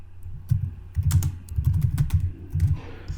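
Keys clatter on a computer keyboard in short bursts of quick presses with brief pauses between them, close and fairly clear, as shortcut keys are pressed while building a PowerPoint slide.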